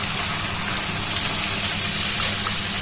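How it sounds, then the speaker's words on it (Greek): Lightly concentrated tomato juice pours into a clay pot with a steady, close liquid gush that runs unbroken for a few seconds with no talking. "Θα προσθέσουμε 200 γραμμάρια ελαφρά συμπυκνωμένο χυμό ντομάτας"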